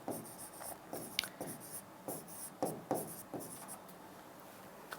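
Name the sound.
writing "Common Era" on a board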